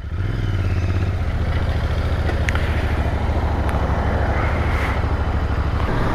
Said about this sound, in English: I'm riding Interceptor after like 4-5 months, and the exhaust note is exactly the same